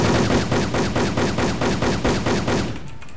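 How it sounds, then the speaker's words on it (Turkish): Video game gun firing on its own in a steady automatic burst, about ten evenly spaced loud shots over three seconds before cutting off into a faint tail; no voices. "Delirdi lan silah. Kendi kendine sıkıyor."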